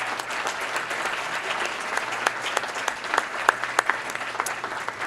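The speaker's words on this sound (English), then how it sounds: "Let's give them all a big round of applause." Sustained applause from an audience at a high school and college student production awards ceremony, dense and steady with a few sharper claps standing out, heard without speech.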